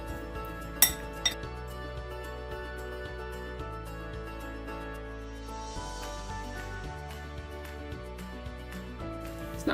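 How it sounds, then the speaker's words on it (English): A spoon stirs chili powder, turmeric, cumin, chopped cilantro and salt in a bowl, giving a few sharp metallic clinks early on and one at the end over a steady low kitchen hum, with no talking. "Give it all a good stir."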